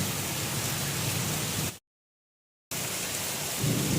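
Steady rain pours down with thunder rumbling, heard through an open window during a night power cut; the broadband downpour is loud and continuous, broken by a brief dropout of silence, with a low rumble swelling near the end.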